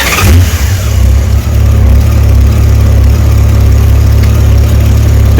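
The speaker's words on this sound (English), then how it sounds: "There we go, starting the bike," A 1991 Honda Goldwing GL1500 SE motorcycle engine idles steadily up close, a loud, even low rumble that holds throughout with no talking.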